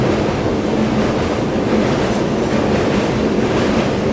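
A train crossing a rail-cum-road bridge in northeast India, heard from aboard as a loud continuous rumble with steady clattering of wheels on track, no voices.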